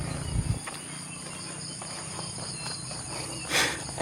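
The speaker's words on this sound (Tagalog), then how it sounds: "Yan, mga kuliglig." A steady high-pitched chirring of crickets fills the background, with a few soft rustles and thumps nearby.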